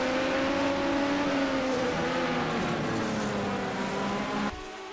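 Formula One race cars from a 1979-era Dijon-Prenois online racing game scream loudly as they accelerate, a steady high engine whine with gear pitch shifting, ending with an abrupt drop in volume.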